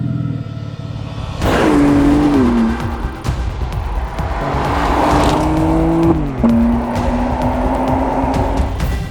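A powerful sixth-generation BMW M3 Competition engine roars into life and revs loudly, with rising and falling pitch sustained throughout, close and prominent.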